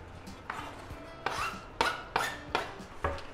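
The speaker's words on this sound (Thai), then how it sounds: "ได้แล้วเราก็มาหั่นเบคอน" Several sharp knife strikes on a cutting board chopping bacon, spaced irregularly and growing closer together, with soft scraping between cuts.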